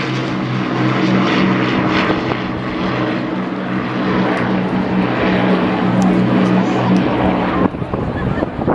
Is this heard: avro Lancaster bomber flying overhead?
yes